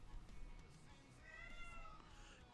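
A cat meows faintly a couple of times, a thin drawn-out cry rising over a low background hum, heard alone without talk.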